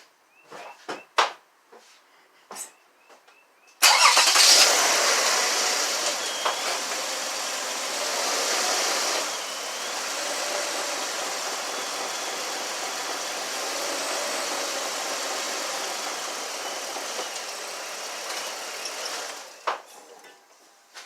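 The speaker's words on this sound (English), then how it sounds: "So I'm gonna start it up and want to get the wheels to rotate" A Toyota Sienna engine fires up and settles into a steady, fairly loud idle that runs unbroken for about fifteen seconds, preceded by a few light clicks and knocks.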